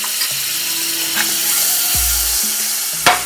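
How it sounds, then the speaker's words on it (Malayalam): Butter sizzling in a hot pan on a stovetop, a continuous hiss with a low hum and a few clanks, including a louder knock near the end. "വേറൊരു അടുപ്പിൽ ഒരു പാൻ വെച്ച് അതിൽ കുറച്ച് ബട്ടർ തേക്കാം"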